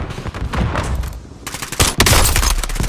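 Video game gunfire in Warzone, a loud, dense barrage of rapid shots and bursts that runs throughout and grows even heavier toward the end, with no talk.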